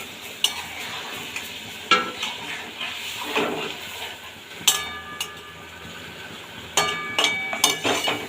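Water from a rinsed spice bowl is poured into a sizzling small-fish chorchori, a dry, spicy Bengali curry, bringing a hiss and bubbling with scattered clinks of stirring that flare up in several bursts; no one talks.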